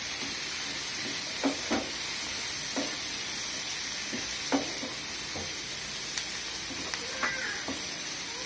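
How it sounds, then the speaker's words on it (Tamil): Tomatoes sizzling as they sauté in a pan for kaara chutney, a steady loud frying hiss with occasional soft stirring taps and clinks layered on top, no voice. "நல்லா வதங்கி வரட்டும் சார்."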